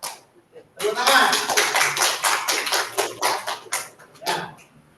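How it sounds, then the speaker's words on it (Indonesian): Classroom of students applauding together at the end of a lesson, a dense burst of many hands clapping for about three and a half seconds, followed by a shorter final round of claps. "Tepuk tangan."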